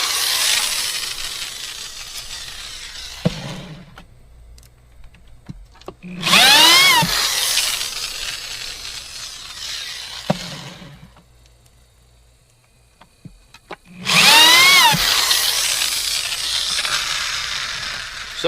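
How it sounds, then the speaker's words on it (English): An old corded power drill is powered from a Rockpals Freeman 600 watt portable power station, whining loudly in two long bursts with quieter pauses between them, close up. "Let's go ahead and get our drill out."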